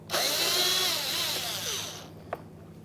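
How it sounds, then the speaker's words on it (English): A power screwdriver whirs steadily for about two seconds while backing out a Phillips head screw from a 2010-2013 Kia Forte Koup front bumper, then stops with a faint click, close and alone. "Get this first Phillips head screw."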